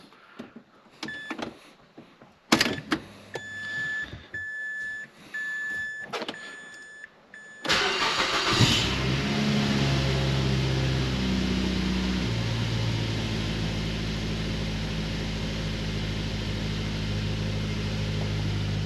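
Several chimes and beeps with clicks come first, then a Mazda 3's engine with worn motor mounts cranks and starts, settling into a loud, steady droning idle with a buzzy, vibrating hum.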